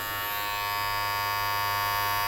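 Cheap electric hair clippers from China cutting hair during a taper fade: a steady, close, high-pitched motor buzz runs unbroken and alone.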